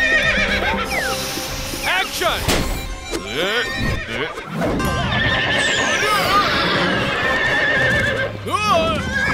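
Cartoon horse neighs loudly several times with clip-clopping hooves, mixed with music and effects while voices speak over it.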